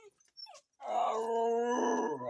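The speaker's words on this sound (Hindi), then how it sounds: "देखिए अभी किस तरह भौंकता है" A dog barks and howls in the early hours before dawn: a few short yips, then a long, sustained whining howl close to the listener, with no talking.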